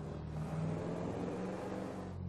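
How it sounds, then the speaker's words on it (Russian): Franklin's car in the video game GTA V, an engine droning at a steady, even pitch throughout, close and constant with no pauses. "Также мне нравится этот звук машины."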